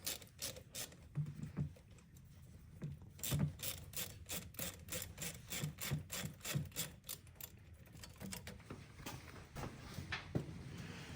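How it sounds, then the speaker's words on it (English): A 7mm socket on a ratchet loosens a hose band clamp on a Chevy engine, a quiet run of rapid ratcheting clicks in short bursts with brief pauses, faint and close, no talking. "we're going to take a 7mm and we're going to open up this band clamp here"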